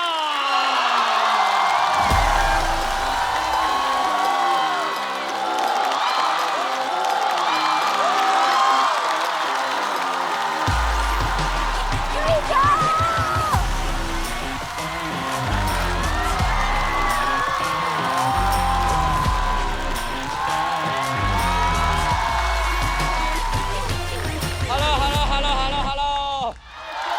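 Live crowd at a Chinese stand-up comedy show bursts into loud applause, whoops and cheers as a comedian walks onstage, a dense sustained roar with music beneath that fades near the end.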